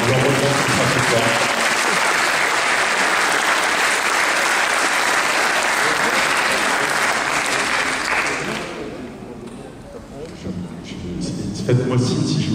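An award ceremony audience gives loud, sustained applause for around eight seconds before it fades into the hall's ambience and a few stray sounds.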